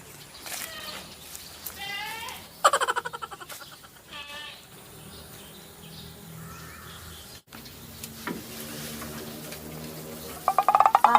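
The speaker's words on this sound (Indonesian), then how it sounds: "rek ditempo we domba teh" Domestic sheep bleating on a Sundanese farm near a rice field, several wavering calls spread through the clip over steady outdoor background noise, with sharp clicks and knocks toward the end.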